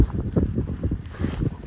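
Strong outdoor wind gusts across a garden plot with cardboard laid on the ground, giving uneven low rumbling buffets on the microphone that rise and fall throughout.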